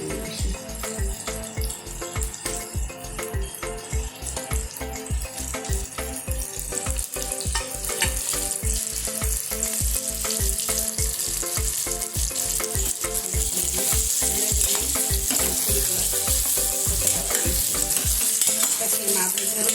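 Eggplant dropped into a pan of sautéed tomatoes and onions for a Kathiyawadi stuffed eggplant curry sizzles steadily and loudly, with a regular stirring clatter through most of the stretch, no voices.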